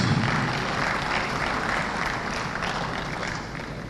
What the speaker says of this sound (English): This time we give them a round of applause, please.